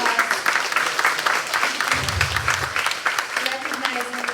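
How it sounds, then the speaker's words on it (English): Outdoor applause at a community event on a farm, a steady wash of many hands clapping with voices and cheers mixed in throughout. "Can we all give this space a beautiful round of applause?"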